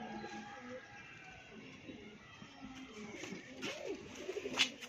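A pair of pigeons coo softly in low, rolling calls, faint and close, with a few sharper sounds toward the end over quiet room noise.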